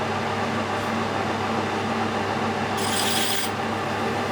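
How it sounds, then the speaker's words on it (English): An alloy engine part being parted off on a metal lathe, supported by the tailstock centre, gives a steady grinding rasp over a constant motor hum, with a brighter, harsher scraping burst near the end. "I'm going to reduce some of the weight on the tailstock centre just enough to support it, and then we'll just gently part that off."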